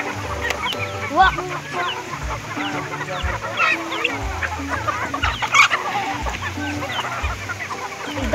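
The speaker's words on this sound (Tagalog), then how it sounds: "Ito lahat ng manok." Chickens on a dragon fruit farm cluck and squawk close by in repeated bursts, with several birds calling over one another against low outdoor background noise.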